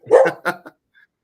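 A dog barks excitedly indoors, three quick close barks followed by a faint whimper, heard alone with no voices.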